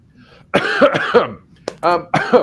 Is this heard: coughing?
yes